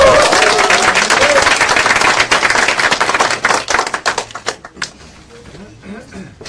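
A party anniversary crowd breaks into loud, dense applause welcoming party leader Ahn Cheol-soo, the clapping thinning into scattered claps near the end as it fades away.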